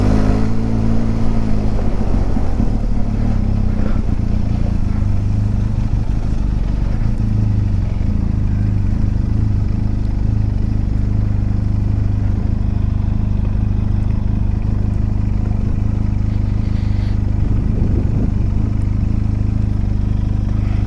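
A Benelli TRK502X adventure motorcycle cruises along a country lane, its engine droning steadily and close by for the whole stretch with a continuous low rumble and wind noise, no talking.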